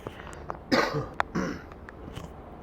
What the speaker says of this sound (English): Sorry, I got a cough, guys.